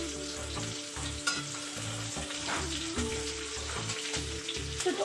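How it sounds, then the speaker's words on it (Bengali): Onions fry in a pan for chow mein while being stirred, giving a constant close sizzle punctuated by regular scraping strokes of the spoon in a steady rhythm, with no talking. "পেঁয়াজ দিয়ে দিচ্ছি, তো আমি আরেকটা হাত দিয়ে নাড়তে শুরু করে দিলাম।"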